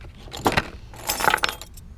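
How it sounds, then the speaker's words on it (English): Antique brass skeleton keys jangle and clink together in two bursts of metallic rattling, close and fairly loud, with no talking. "There's four brass skeletons."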